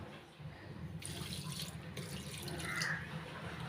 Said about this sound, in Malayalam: ഇത് കുറച്ച് വെള്ളം ഒഴിക്കണം കേട്ടോ.